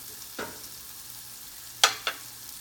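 Bacon crisps in a frying pan with a faint, steady sizzle, broken by a few brief clinks and scrapes of stirring.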